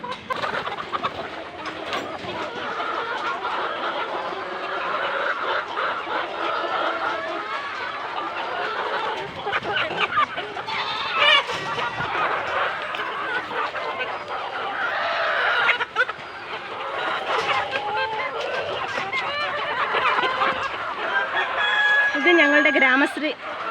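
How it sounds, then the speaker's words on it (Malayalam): BV380 laying hens cluck and squawk continuously nearby, with occasional crowing rising above the flock's busy chatter. "ബി വി ത്രീ എയ്റ്റി കോഴികളാണ് ഇത്"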